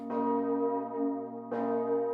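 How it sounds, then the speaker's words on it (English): A bronze carillon bell rings out twice, each strike loud and close with a rich, humming tone that sustains and slowly decays, the second strike coming about a second and a half after the first, with no talk. "It all began with one bell."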